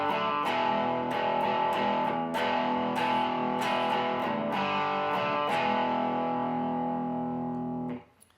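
Distorted electric guitar strumming chorus chords, with repeated rhythmic chord hits over ringing sustain that fades out at the end, with no talking.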